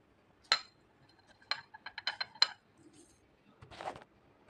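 A pestle knocks roasted cumin and dried chili in a mortar, giving a few sharp, close clinks spaced irregularly over several seconds against near silence, with no voices.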